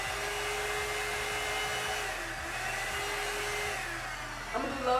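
A hair dryer brush runs on its low setting with a steady, close whooshing hum throughout, fairly quiet and even, ending with a faint rustle.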